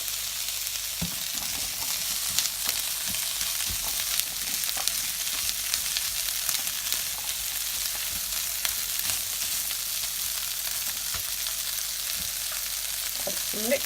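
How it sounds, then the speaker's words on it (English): Drained, rinsed tinned chickpeas frying in a pan for a plant-based curry, a steady bright sizzle with occasional stirring clatter, close and continuous without speech. "Let it fry."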